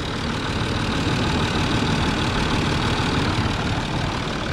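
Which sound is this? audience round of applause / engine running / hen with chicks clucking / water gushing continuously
engine running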